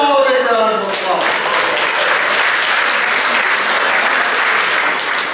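Loud, dense audience applause after a show rises right after a voice and carries on steadily, a thick wash of many hands clapping close by.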